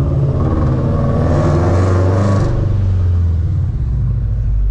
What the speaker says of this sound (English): go ahead and get the car warmed up a little bit